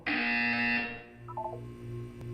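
A harsh, sustained buzzer tone in the video game Portal 2 blares for about a second, followed by a short run of soft beeps and a lingering low drone.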